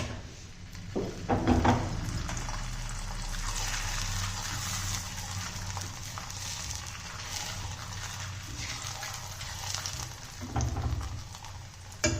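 Oil sizzling steadily in a hot frying pan on a home stove, a continuous crackling hiss with occasional louder bursts and clatter, no talk over it.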